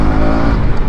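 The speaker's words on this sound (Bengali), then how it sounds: "জাস্ট একটা গিয়ার ডাউন করে আরপিএমটাকে বাড়িয়ে তারপরে তুমি কর্নারিংও ভালো করা যাবে।" KTM Duke 250 motorcycle pulling hard after a gear downshift, a loud, close engine note rising in revs over a brief burst.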